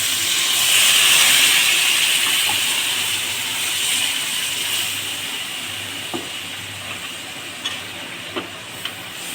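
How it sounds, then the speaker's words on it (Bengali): Water poured into a hot pan of pangas fish curry sets off a loud rush of hissing steam that gradually softens into a steady simmering fizz, with a few light utensil taps near the end. "এখন আমি জল দিয়ে দেবো"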